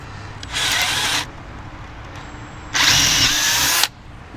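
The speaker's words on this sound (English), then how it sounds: "Let's do some drilling in the wood." A power drill bores into wood for a chicken tractor build, two short loud whirring bursts, the first under a second and the second slightly longer, separated by a brief quiet pause.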